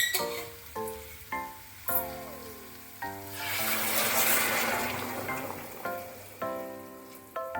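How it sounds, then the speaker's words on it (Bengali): Hot water pours into chicken curry in a pan, setting off a loud broadband sizzle and bubbling from about three to five seconds, between short metallic clinks and stirring scrapes that rise and fall throughout. "এবার এতে গরম জল দিয়ে দেবো"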